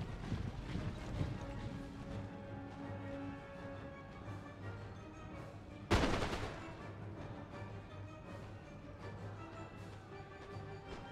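Musket volleys from troops in a Total War video game, one sharp crackling volley standing out mid-clip over a quiet bed of distant scattered shots and ambient battlefield sound.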